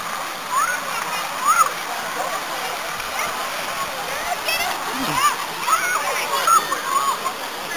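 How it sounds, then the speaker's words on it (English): Water is thrown and splashes at an outdoor hot spring, a bright, steady splatter under a light wash of flowing water, with a voice and other voices nearby. "You got water thrown at you."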